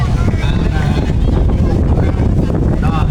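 Strong wind gusting across the microphone at a riverside boat-race festival in Laos, a loud, steady roar with constant rumble filling the whole clip and no clear voices.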